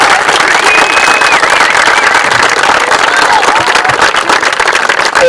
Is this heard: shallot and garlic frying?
no